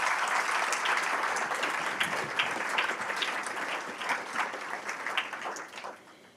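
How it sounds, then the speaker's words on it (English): An audience at an alumni fellow awards ceremony applauds Penn State families, a dense, steady wash of many hands clapping that fills the room and tapers off slightly at the end. "If everyone in the room would give another round of applause to our amazing Penn State families."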